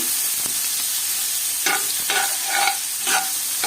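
Onions for gongura chutney sauté in a pan, a constant low sizzle broken by several scraping stirs of a spoon, close and clear with no talking.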